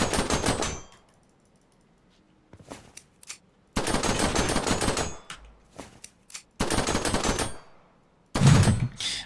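Pistol gunfire in a video game, several bursts of sharp rapid shots separated by quiet gaps and scattered single clicks, no talking.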